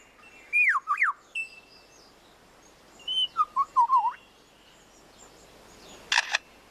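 Whistled, sliding lyrebird calls come in two short bursts, followed after a pause by a brief, crisp mechanical click imitating a camera shutter, all close and clear against forest quiet.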